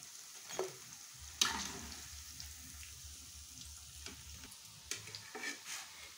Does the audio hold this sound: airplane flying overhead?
no